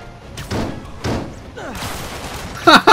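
Gunfire in the Marvel's Spider-Man game: a few sharp impact-like bangs spaced out over combat noise, with a loud double crack at the end.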